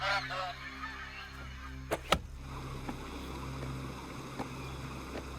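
Agitated birds give honking calls near trees being cut, a burst of cries at the start followed by a few sharp knocks against a steady outdoor background.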